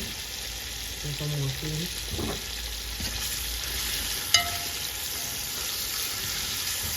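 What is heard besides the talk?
ackee and chicken back frying in a pan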